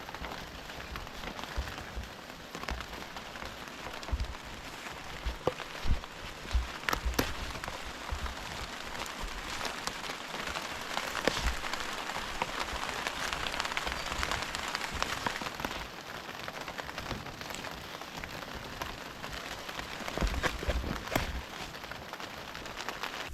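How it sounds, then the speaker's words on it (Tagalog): Steady rain patters down on surfaces of an eggplant field, a dense continuous hiss with scattered sharper drops, close and fairly even throughout, no voices. "Sabay ulan."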